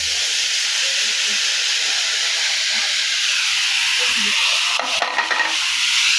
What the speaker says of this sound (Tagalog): lutuin natin ulit mga idol para yung sibuyas maluto at kamatis